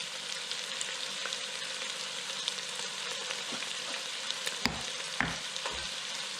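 Steady sizzling of lasagna sauce in a hot pan as salt and pepper are stirred in, with a few sharp spoon clinks near the end and no talk.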